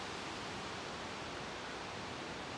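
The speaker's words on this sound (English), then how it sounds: "You can probably hear water source right there, nice flowing river." A river flows steadily nearby old 1800s log cabins, a constant broadband rush of water with no breaks, fairly loud and without voices.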